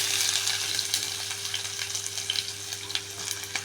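Chopped onion with cumin and mustard seeds sautéing in a kadhai, a continuous close crackling sizzle with light stirring noises.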